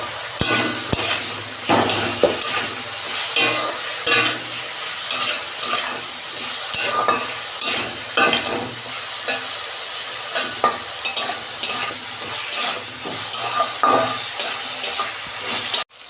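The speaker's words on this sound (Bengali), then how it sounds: "আলু বেগুনটা ভাজা হয়ে গেছে," Potato and eggplant pieces frying in oil while being stirred, a continuous sizzle broken by repeated scraping and clanking strokes of the spatula against the pan, close and fairly loud.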